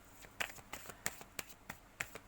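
Tarot cards being spread out for a reading: a series of soft, crisp card slaps and flicks at an irregular rhythm, close and fairly quiet, with no one speaking.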